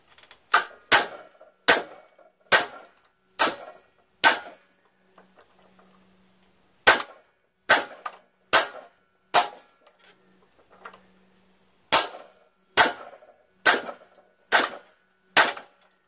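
A hammer strikes a stuck part on an MTD 4521 Yard-Man single-stage snow blower in sharp metallic blows, in two bursts of five or six evenly spaced hits separated by brief pauses.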